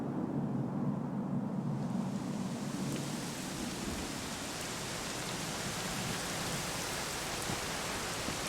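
Steady heavy rainfall in the Dragon Quest XI S video game, a dense, constant hiss of drops filling the scene for the whole stretch, with a low rumble fading early on; no voices.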